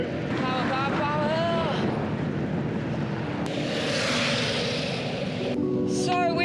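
A strong headwind buffets a road cyclist, producing a continuous loud rushing roar across the microphone, with a voice briefly audible early on beneath the wind noise.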